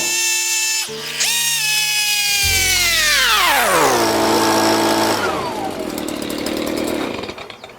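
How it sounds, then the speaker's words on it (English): A loud engine-driven blower runs steadily while clearing bees out of honey supers during a honey harvest, its motor pitch sliding down midway and then holding a lower, rougher drone before fading at the end. "we use the blower to blow them out"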